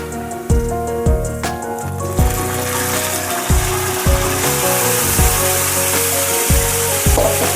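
Marinated chicken frying with onions in a pan gives a steady loud sizzle, broken by repeated rhythmic scraping knocks as a utensil stirs the pieces against the pan, with no voices.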